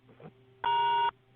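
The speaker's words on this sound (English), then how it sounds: "That was my phone." A mobile phone gives a single short electronic notification beep, clear and steady, lasting about half a second against a quiet background hum.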